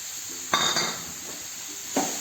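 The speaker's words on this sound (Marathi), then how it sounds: "आणि आता हे सतत हलवायचं आहे, कारण हलवलं नाही तर सारण हे खाली लागू शकतं" Spoon stirring melting jaggery and grated coconut filling in a pan on the stove for modak, a steady sizzling scrape with two sharper clinks of the utensil against the pan.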